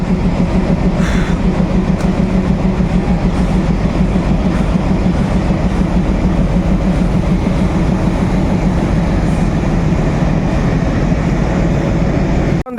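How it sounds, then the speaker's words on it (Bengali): A fast train runs across the Nashipur rail bridge on a speed test, heading from the Azimganj side toward Murshidabad; a continuous, loud, close rolling roar with clickety-clack from the wheels, cutting off abruptly at the end. "স্পিডে গাড়ি আবারও আজিমগঞ্জ সাইড থেকে মুর্শিদ কার্ভ লাইন পার করে মুর্শিদাবাদের দিকে ঢুকছে"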